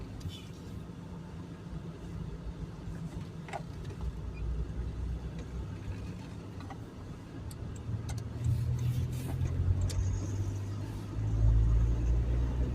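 Car driving slowly along a road under renovation near Zawiercie, its engine a steady low rumble that swells louder toward the end, with a voice talking over it.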